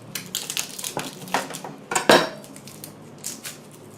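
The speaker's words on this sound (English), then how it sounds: "I'm going to go ahead and chop up all of my vegetables and put them directly into the soup pot." Vegetables being chopped for a vegetarian miso soup, a run of knife clacks against a cutting board with clinking cutlery and dish sounds, close and moderately loud, irregular strikes with a sharper burst near the middle, no talking.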